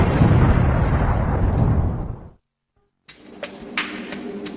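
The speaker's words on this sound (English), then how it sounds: "Our experts will recreate the explosion that changed the world." A full-size replica of the 1453 Ottoman great cannon fires with a loud, roaring blast that rumbles for about two seconds, then cuts to silence before quieter, echoing outdoor noise returns.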